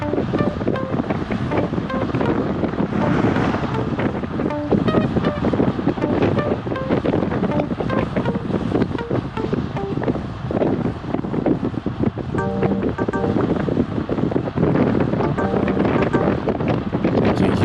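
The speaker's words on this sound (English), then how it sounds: "Hear that wind. We are going into the wind and it's poundings." Strong headwind buffeting a bicycle rider's microphone on a road ride, a steady loud roaring rush that continues throughout with no speech.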